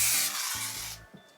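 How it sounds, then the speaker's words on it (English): Glitter setting spray hisses from a pump bottle in a few quick bursts, close and bright, ending in a short fading spray. "I am gonna spray it just to show you guys what it looks like."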